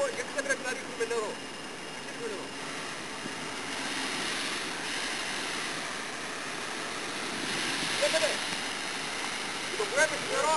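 Water sprayed from fire hoses during a fire exercise at a Hellenic Petroleum refinery, a broad rushing hiss that swells and eases steadily, with voices speaking intermittently over it.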